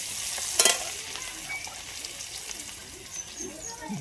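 Chopped onion, a dried chilli and potatoes go into hot oil in a home kitchen, bringing a brief splash and then a soft, continuous sizzle close by.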